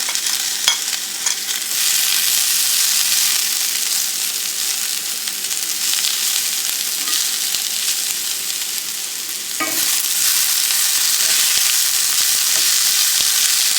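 Onion and sun-dried tomatoes fry in a pan with a loud, continuous sizzle and crackle, broken by a brief stir midway before the hiss resumes, with no talking.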